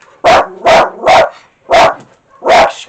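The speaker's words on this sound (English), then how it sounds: "Meter readers running down the alley, and all 4 dogs want to go out and say hello to him." Four dogs bark at a meter reader passing down an alley, five loud sharp barks in an uneven rhythm, close and clear with brief silences between them.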